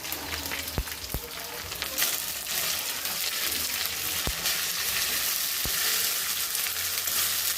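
Pulao cooking in a pan, a broad, continuous sizzle with a few sharp clinks of a utensil against the pan, steady and close, with no voices.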